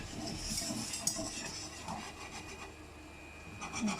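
Spinach lasagne filling with parmesan stirred in a pan, giving faint, quiet scraping and rubbing of a utensil against the pan with a few light knocks, heard alone without talk.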